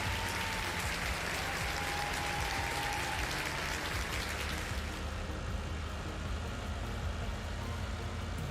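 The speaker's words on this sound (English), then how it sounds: "A round of applause for that sub too." Dense applause sound effect on a farming game stream, a steady wash of clapping holding at an even level for the whole stretch, with a faint tone fading in the first few seconds.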